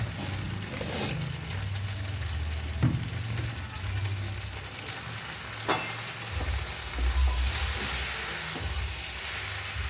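Pasta ingredients fry in a pan over a high gas flame, giving a continuous sizzle with soft scraping stirs and occasional clinks, with no talk.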